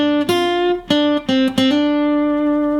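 Guitar lick from a solo, a few clean plucked notes with bends and slides, then one sustained note ringing out and fading.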